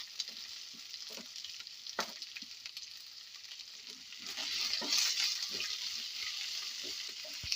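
Sliced onion added to a hot pan with ginger for masala dosa filling, a steady sizzle that swells louder partway through, broken by spatula scrapes and stirring knocks, no talk.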